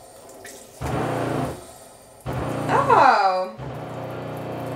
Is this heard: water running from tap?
yes